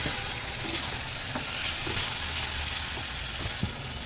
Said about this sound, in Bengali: এখন দিয়ে দেবো হলুদ দিয়ে ধুয়ে রাখা ওই শোল মাছ